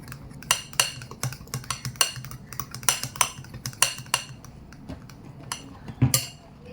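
A spoon mixes biscuit cake batter with sugar in a bowl, scraping and clinking against the sides in a quick, uneven rhythm of sharp, close taps over several seconds.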